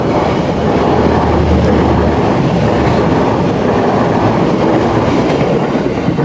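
A train rumbles past close by, a continuous loud roar with rhythmic clattering of wheels over the tracks and occasional squeals.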